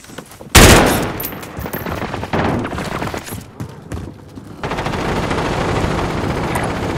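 Submachine gun fire in the video game Call of Duty Warzone: a sharp loud opening blast followed by rapid bursts of automatic shots and a later stretch of sustained rattling fire, close and harsh with no talk.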